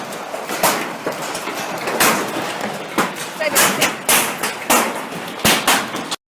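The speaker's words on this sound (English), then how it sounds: "massive hailstones, the size of tennis balls, pound relentlessly on the roof" Tennis-ball-sized hailstones pound a shed roof in loud, irregular thuds and cracks over a dense rattling roar, with a voice faintly mixed in.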